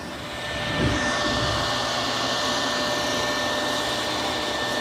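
A eufy E20 robot vacuum running on carpet, its motor a steady close whirring drone with a faint high whine, spinning up in the first second and then holding constant.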